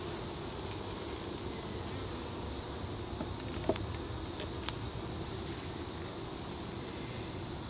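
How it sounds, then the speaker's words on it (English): Dense, steady buzz of many honey bees inside a hive's honey super, a constant hum filling the space at close range with a few faint clicks and knocks. "We have lots and lots of bees up in this honey super."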